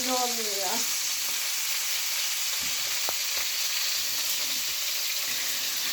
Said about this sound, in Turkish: Ama yağ da sıçrıyor. Dikkat etmemiz lazım.